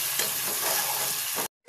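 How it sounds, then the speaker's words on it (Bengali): Chopped garlic sizzles steadily in a pan of oil while being stirred toward browning, a close, dense frying hiss lasting under two seconds before cutting off abruptly. "আর রসুন কুচি দিয়ে দিলাম ও ব্রাউন কালার হওয়ার আগ পর্যন্ত এটাকে নাড়তে থাকবো।"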